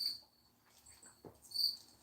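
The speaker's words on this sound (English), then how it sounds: "Still hear the crickets, though." Crickets chirp faintly in daylight, two short high trills at the start and end with a quiet pause and a soft thump between.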